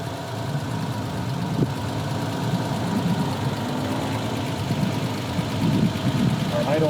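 A Volvo 164 engine with a Stromberg 175CD carburettor idles smoothly and steadily at close range, a continuous low rumble with a voice occasionally heard over it.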